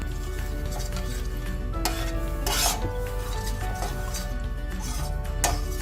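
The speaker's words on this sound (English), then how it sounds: "we're going to start browning and reducing this on a pan" Beef tongue sauce browning and reducing in a pan, a steady sizzle with occasional metallic clinks and scrapes of a utensil against the pan, close and continuous.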